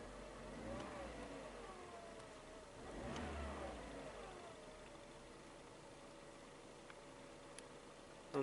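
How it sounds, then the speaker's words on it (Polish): Passenger car engine being revved while it switches over to LPG, rising and falling engine tones with a couple of swelling revs, then settling to a steady idle hum. "Wyłączamy, przegazuję go."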